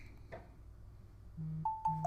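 A phone gives off a series of short electronic notification tones, a low beep and higher pings in quick succession, faint and close, with no talk.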